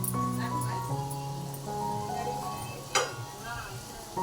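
Bhaji and papad frying in hot oil in a home kitchen, a steady soft sizzle running throughout, with a brief louder crackle near the end and faint background clatter.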